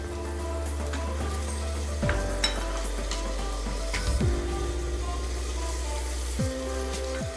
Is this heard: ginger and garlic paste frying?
yes